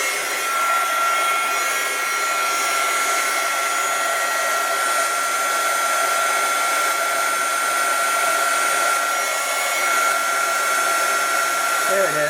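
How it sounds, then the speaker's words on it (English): Heat gun running steadily to heat set embossing powder for a papercraft card, a loud continuous blowing whir with a constant whine, close by and uninterrupted. "let me get my heat gun going, and then we're going to go ahead and heat set this"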